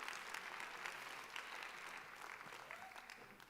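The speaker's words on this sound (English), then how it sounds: "A huge round of applause, please, for Sara." Audience applause at a ZeroCon22 award ceremony, a sustained dense clapping from a crowd heard at moderate distance, continuous for the whole stretch with no voices over it.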